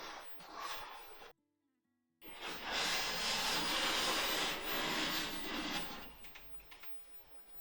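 A hand plane shaves a thin full-width, full-length curl from a wooden board, with a short rasping stroke, a brief pause, then a longer sustained hissing cut close by.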